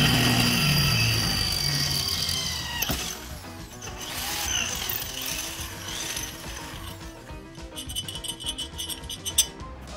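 A drill bit boring a 5 mm hole for a set screw in the top face of a metal caliper part, giving a loud, steady grinding whir that shifts and breaks off, then rattles near the end.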